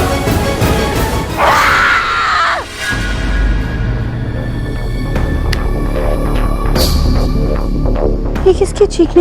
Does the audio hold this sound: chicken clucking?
no